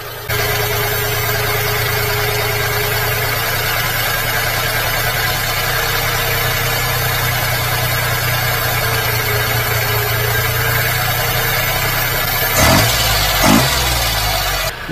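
A mini-truck engine running with a larger 32mm eBay carburetor idles steadily and close by for the whole stretch, with a couple of brief blips of revving near the end.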